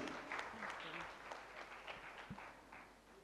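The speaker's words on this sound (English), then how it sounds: "One round of applause again, please." Audience at a women trailblazers panel event applauding a guest on stage, a faint, steady wash of clapping from a crowd heard at a distance.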